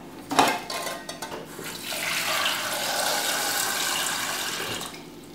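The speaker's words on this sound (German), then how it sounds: "werde sie gleich mit Wasser ganz knapp bedecken" Water poured from a tap into a small pot over raw eggs, a brief clank of the pot first, then a steady rushing pour that stops near the end.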